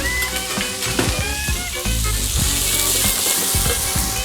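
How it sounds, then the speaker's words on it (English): Fish cake ingredients saute in a pan with a loud, steady sizzle and crackle close up, joined by frequent utensil knocks and scrapes as they are stirred, with no voices. "All of that is going into the pan to saute, all right?"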